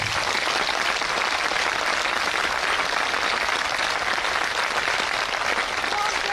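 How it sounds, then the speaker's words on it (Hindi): Big audience applause at a Buddhist commemorative gathering, a thick, even roar of many clapping hands held at a steady level throughout with no pauses. "감사하는 마음으로 큰 박수를 한번 치시기 바랍니다."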